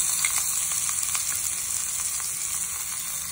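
Capsicum sautéing in a teaspoon of hot oil alongside tomato and green chilli, a steady hissing sizzle with light rapid crackles and faint stirring, close up and without talk.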